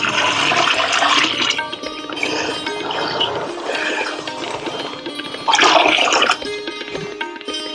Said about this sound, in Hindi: बाद में डालते हैं हम चने का आटा 2 किलो, जिसमें पानी हमने घोल करके रखा है।